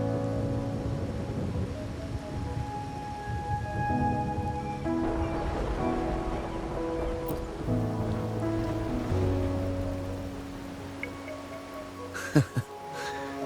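Steady rain falls in a game scene from Wuthering Waves, a continuous wash of patter beneath layered sustained music tones, with a couple of sharper knocks near the end.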